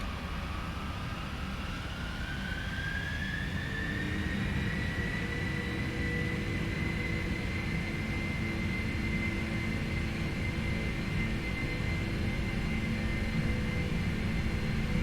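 Boeing 747-400 engines spooling up to takeoff thrust in the PMDG flight simulator, a steady loud roar with a rising whine that climbs then levels off and holds throughout.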